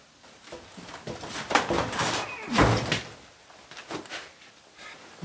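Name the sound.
door being forced open by its handle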